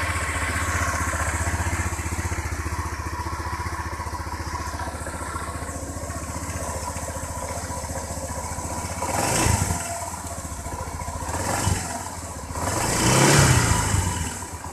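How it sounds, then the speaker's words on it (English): A Honda PCX scooter with its factory OEM exhaust runs steadily at idle, then revs in three short throttle blips, the last one the longest, with a fairly quiet, muffled engine tone and no talk. "I'm going to start this up with the factory OEM exhaust"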